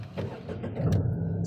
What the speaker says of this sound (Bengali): তো এই গাড়ি স্টার্ট হয়েছে